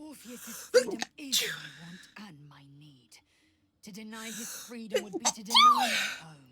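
A single sneeze from a person, caught among whispered and spoken voices talking close by.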